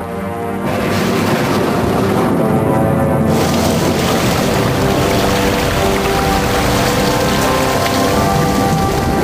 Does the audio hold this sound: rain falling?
yes